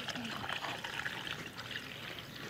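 Water trickling and pouring into a kadhai of paneer gravy on the stove, a steady, fairly close liquid wash with no break, spread over a little more than two seconds.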